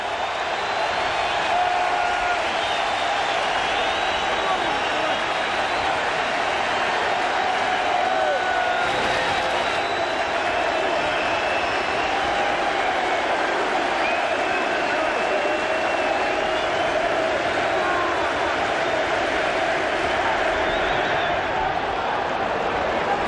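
A baseball crowd at a Cubs game against the Yankees cheers and applauds in a steady, continuous roar, with broadcast commentators talking over it throughout.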